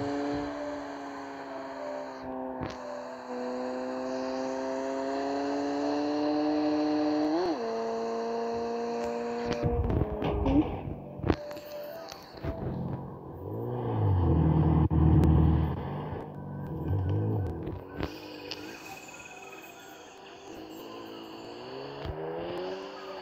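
Car engines in the mobile game Car Parking race, with a steady, droning tone that holds and rises as the engines rev, plus some rougher rumbling and revving bursts mid-race, all fairly loud and close.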